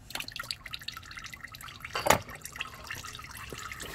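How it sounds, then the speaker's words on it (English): Used engine oil trickles and drips from a removed filter into a drain pan beneath a 2013 Hyundai Genesis 2.0 Turbo, a steady close patter with one louder splash midway. "Once you have it loose, just go ahead and remove the filter. Let that drain into the pan."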